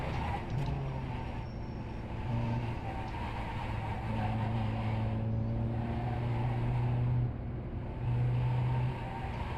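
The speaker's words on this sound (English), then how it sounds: "Being a diesel, this car just hits the rev limiter so quickly." A diesel VW Jetta racing at Sebring in the iRacing simulator holds a steady, loud engine drone that climbs and sits flat against its rev limiter across several gear stretches, with no talk over it.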